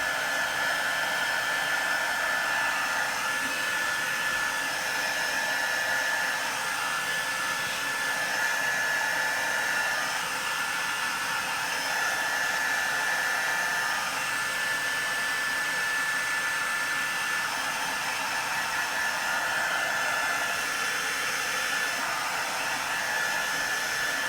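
Heat gun blowing steadily to dry freshly made mixed media scrapbook tags, a continuous loud whooshing hiss with a faint high whine that holds evenly without a break, no voices over it.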